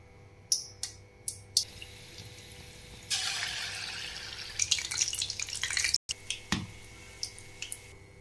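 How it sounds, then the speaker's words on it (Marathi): Gulgule batter balls dropped one by one into hot oil: a few sharp drip-like clicks, then a steady loud sizzle with scattered crackles and pops, no talking. "तेल गरम झालेलं आहे, त्यामध्ये आता एक एक बॉल्स टाकायचे आहेत"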